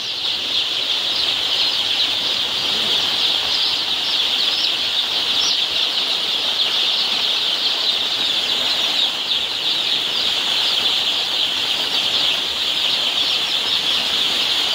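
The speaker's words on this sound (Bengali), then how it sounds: "ছড়িয়ে ছিটিয়ে পাখি ঘুরছে।" Dense, continuous high-pitched peeping from a crowd of chicks in a poultry brooder fills an enclosed space, steady and loud with no pauses or talking.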